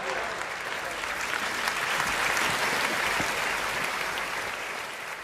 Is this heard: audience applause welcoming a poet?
yes